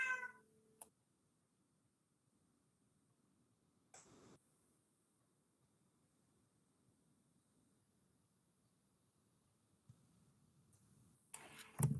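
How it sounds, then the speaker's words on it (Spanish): A house cat meows in a few brief, separated bursts, faint and distant in a mostly silent room during a Spanish-language online class on engine control components. "Creo que había bulla por el gato."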